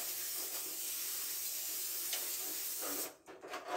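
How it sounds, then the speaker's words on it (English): A steady aerosol hiss of cooking spray coats the inside of a pan continuously for about three seconds, then cuts off into a few soft clinks. "I'm going to take my cooking spray and spray the inside of this pan"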